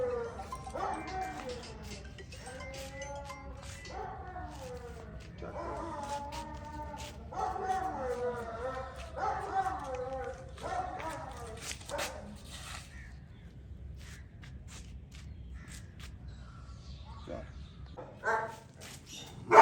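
A large bully dog barks and yips in a series of sharp, repeated calls, fairly close, while someone talks over and between the barks.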